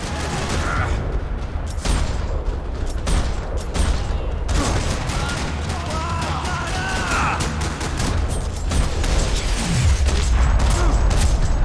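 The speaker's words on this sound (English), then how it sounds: "Another parking lot rattling with gunfire." Sustained gunfire in a parking lot battle in the video game Max Payne 3, dense rattling bursts and overlapping shots that keep going without pause, loud and close throughout, with no talk over them.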